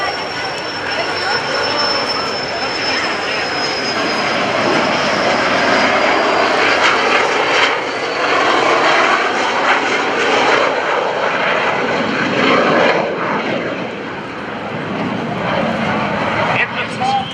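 An A-4 Skyhawk jet, a small aircraft with landing gear, flaps and tail hook down, roars past at the 2015 NAS Oceana airshow, loud and sustained with a whining tone, while a commentator talks over it.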